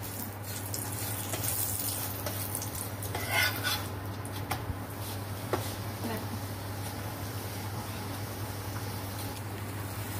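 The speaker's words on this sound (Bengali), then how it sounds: "অল্প অল্প তেল দিয়ে ভাজবো এটাকে।" A sweet potato paratha fries in a little oil on a pan, giving a steady, soft sizzle under a constant low hum, with a few faint scrapes and clicks.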